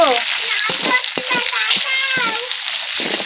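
Chopped onions sizzle and spit in hot oil spiced with bay leaves and tempering, a steady bright frying hiss with several spoon scrapes as they are stirred in the pan, a Bengali pilaf and red chicken kosha being cooked.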